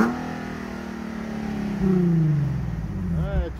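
A Nissan 370Z engine revs and accelerates, its tone climbing in pitch, then stepping up with a louder surge partway through and rising again, heard from close by over faint background noise.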